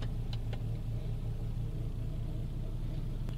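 Steady, low, even rumble of a car engine idling after a remote start through an aftermarket alarm, close and constant with a couple of faint clicks, no talk.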